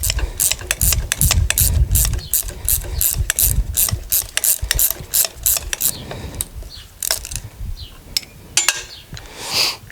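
A pass-through ratchet wrench clicks rapidly and loudly while removing a nut on a 2017 Ram 1500 4x4 during a front drop kit install, with dense bursts of pawl ticks that thin out into scattered clicks toward the end.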